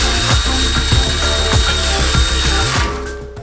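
A ratchet or power tool tightens the wheel bolts on a Maserati during a big-brake pad and rotor job, making a loud, steady mechanical whirr with rhythmic clicking pulses that cuts off near the end.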